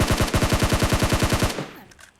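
Rapid automatic gunfire in a video game, a fast run of about fourteen evenly spaced loud shots that stop abruptly after about a second and a half, leaving a faint tail.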